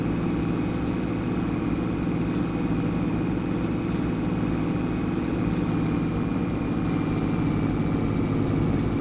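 In a farming video game, a tractor engine labours up a hill with a constant low, heavy drone and a thin steady whine above it, loud and unbroken for the whole stretch.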